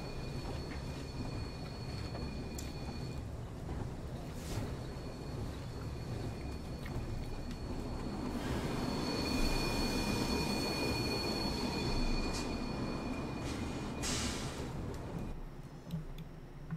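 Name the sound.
light railway train moving uphill, pushed by engine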